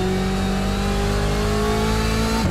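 A BMW GTE race car in the iRacing sim at Monza holds a loud, steady engine drone at high revs with a strong harmonic whine, then drops sharply in pitch at the very end.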